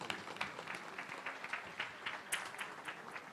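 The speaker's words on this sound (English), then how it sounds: "Round of applause for the lady here." A gala dinner crowd gives a round of applause, dense steady clapping from many hands throughout, moderately loud and close.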